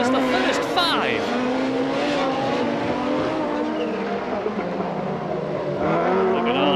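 A 1991 Audi rallycross car slides wide through a corner at a British Rallycross Grand Prix, its loud engine roaring steadily with rising and falling revs and brief tire squeals, while a commentator talks over it throughout.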